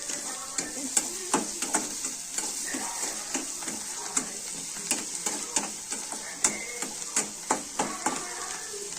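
Onions frying in a pan with salt, a constant sizzle broken by regular rhythmic scrapes and taps of a stirring spoon, close and clear with no voices.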